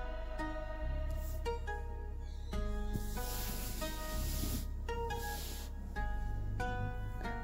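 Grated carrots steaming in ghee in a pan for carrot halwa, a soft continuous sizzle and hiss running under steady background tones, faint and even throughout.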